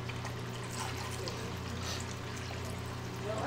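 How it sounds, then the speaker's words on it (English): Water from a 2-quart container pours onto the vegetables around a pot roast in a pot, a steady, close trickling stream with no pause. "I fill up a 2-quart container of water and pour it on the vegetables around the roast."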